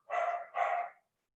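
Two quick barks from street dogs outdoors during a June festival evening in northeast Brazil, a pair of mid-distance yaps in close succession with nothing else heard.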